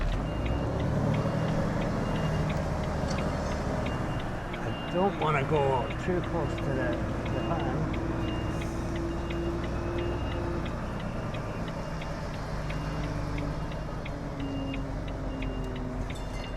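A 44-tonne delivery truck reverses into a tight yard with a steady series of evenly spaced reversing beeps over its engine rumble, while the driver talks over it.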